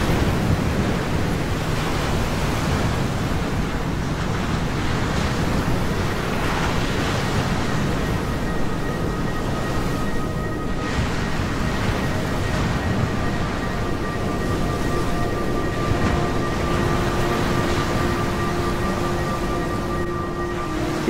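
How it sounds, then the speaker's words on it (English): Storm waves from Storm Ophelia crash continuously around the bays of Bardsey island, a dense, loud, steady roar of surf mixed with wind rumble. "Even here, the waves were only marginally better."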